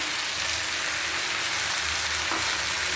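Masala sizzling and frying steadily in a pan while being stirred for a mushroom and capsicum gravy, a continuous close, even hiss with no talking.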